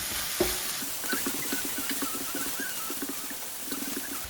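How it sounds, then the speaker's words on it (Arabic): Onions frying in oil in a pan while being stirred, a soft steady sizzle with light scraping and patter from the utensil, close and continuous, with no voices. "غنحرك هادشي مزيان."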